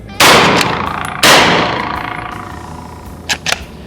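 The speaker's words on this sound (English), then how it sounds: "With a 16-inch barrel on a full-size rifle like this with 9mm, we're shooting 124 grain AAC ammunition." Two loud, sharp gunshots from a 9mm lever-action rifle with a 16-inch barrel firing 124-grain ammunition ring out about a second apart, each with a long echoing decay. Fainter metallic clicks from the lever follow.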